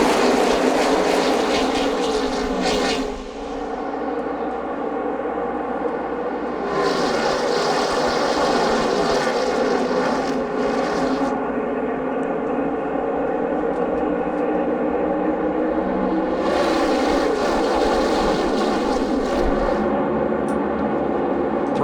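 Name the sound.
NASCAR stock cars racing at Talladega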